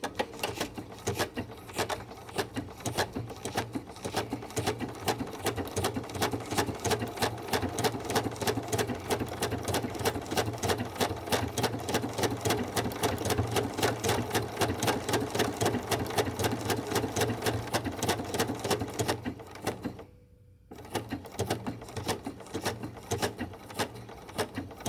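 A sewing machine stitches wool applique at a 9.0 width and 2.8 length setting, running as a fast, steady, loud mechanical chatter that pauses briefly near the end and then resumes.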